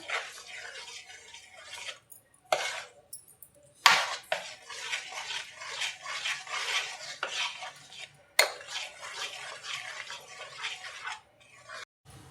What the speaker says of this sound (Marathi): हळद घालून घेऊया हळद छान मिक्स करून घेऊया